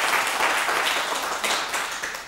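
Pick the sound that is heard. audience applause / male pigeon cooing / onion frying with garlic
audience applause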